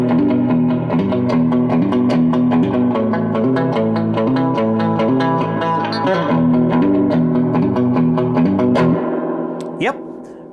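An electric guitar plays through a Fender Blues Jr tube amp with its reverb engaged, strummed chords and picked notes ringing loud with a warm, slightly distorted tone and a reverberant tail that trails off at the end.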